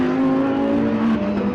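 Porsche 997 GT3 Cup race car engine at a National Extreme Festival round, a loud steady high-pitched engine note held close and continuous, rising slightly in pitch toward the end.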